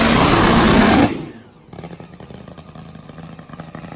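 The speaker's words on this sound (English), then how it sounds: "Did you notice the sound out of McBride's bike? A little different." A top fuel nitro drag motorcycle engine runs loud and harsh for about a second, then cuts off abruptly, leaving quieter rattling and mechanical background noise.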